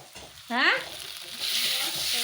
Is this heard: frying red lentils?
yes